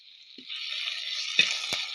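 Green chilli and curry leaves sautéing in a pan give a steady, close sizzle throughout, with one small sound near the start and two sharp pops toward the end.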